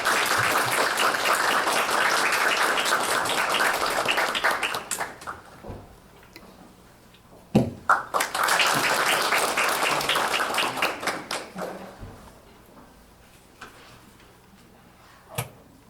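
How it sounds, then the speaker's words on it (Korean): An auditorium audience at a university lecture applauds Ban Ki-moon, former UN Secretary-General, as he comes to the stage: sustained loud clapping that fades out, then swells again before dying away, with a few isolated taps and knocks. "여러분 뜨거운 박수 부탁드리겠습니다."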